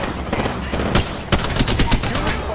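Rapid gunfire from the video game Apex Legends, a dense burst of shots with a louder crack near the middle, firing continuously across the clip under faint voices.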